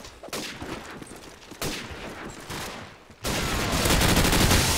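Gunfire in Call of Duty 4 on the Nuketown map with the ProMod mod: dense bursts of rapid automatic shots, loud and close, swelling into a continuous heavy volley near the end.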